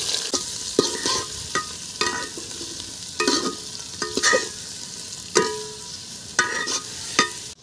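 Onions sizzle and fry in hot oil with whole garam masala in a cooking pot for a village-style deshi chicken handi, a steady crackle broken by repeated sharp scrapes and stirs of a spoon, close and fairly loud with no talk.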